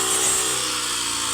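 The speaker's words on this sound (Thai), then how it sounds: "เอาเครื่องตัดหญ้ามาดัดไส้เป็นเครื่องเกี่ยวข้าว" A brush cutter with a modified head for harvesting rice whines in a steady, loud, high-pitched drone with no break, in a rice field in Laos.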